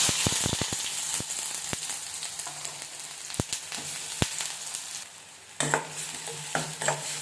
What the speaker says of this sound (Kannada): ಈಗ ಎಣ್ಣೆ ಕಾದಿದೆ, ಈರುಳ್ಳಿ ಹಾಕೊಳ್ಳೋಣ.